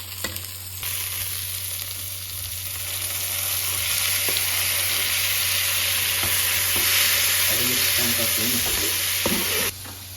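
Onion, garlic, tomato and chili fry for a pickle, making a continuous hissing sizzle that builds louder partway through, with stirring clatter near the end and a steady background hum.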